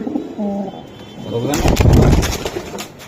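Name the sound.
pigeons cooing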